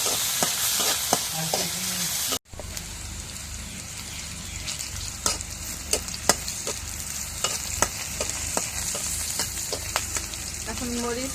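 Leafy greens with garlic stir-fried in a home kitchen hiss loudly and continuously, a strong sizzle broken by the scrape and clatter of stirring, with a sharp sputtering burst as something hits the pan.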